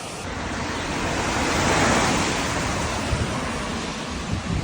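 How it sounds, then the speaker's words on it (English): Broad, constant roar of rushing water, loud and close, a river swollen after rain in full flow, with faint wind noise. "Putting out a lot more water right now because of the rain."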